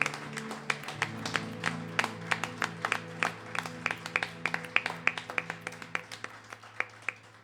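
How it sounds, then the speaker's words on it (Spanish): Church congregation clapping during Sunday worship, sparse and fairly quiet individual claps in a loose rhythm over a sustained low organ or keyboard tone. "Dale un aplauso al Rey y dale toda tu alabanza con todo tu"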